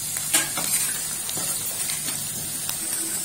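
Black-eyed peas toast in a pan over a high flame, a continuous bright sizzle with soft scraping stirs and light ticks from the pan throughout.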